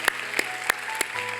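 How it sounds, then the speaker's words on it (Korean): A congregation at Seoul Dream Church claps during a service: four loud, evenly spaced claps over held keyboard tones. "영광의 박수 올려드리겠습니다."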